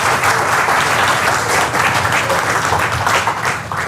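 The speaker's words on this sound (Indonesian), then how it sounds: "Oh, tepuk tangan." Loud, dense audience applause at an indoor health talk, many people clapping together in a steady roar that swells and slightly eases over a few seconds, no talk over it.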